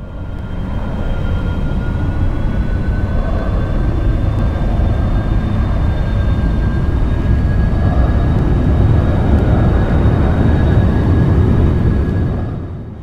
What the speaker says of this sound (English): we'll jam on the afterburner and pull the stick all the way back and hold it there until it rotates